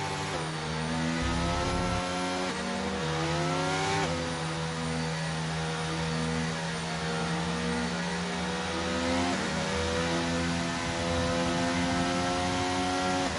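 Race cars in an online racing game league event at Australia, running in a pack behind the safety car, their engines droning steadily and revving with shifting pitch throughout, loud and continuous with no voices.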